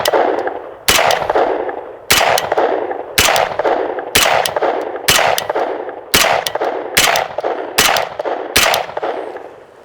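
Around ten sharp, loud gunshots from a Gritr Caracara fired at targets, spaced roughly a second apart in a steady rhythm, each with a short ringing tail and no talking.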